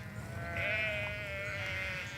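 A sheep on a medieval-style monastery farm lets out a single long, wavering bleat, fairly clear against a quiet outdoor background.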